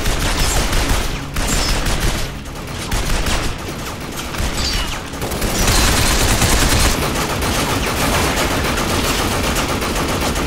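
Sustained heavy gunfire in the video game Binary Domain, a dense, loud barrage of overlapping automatic bursts that continues almost without pause throughout.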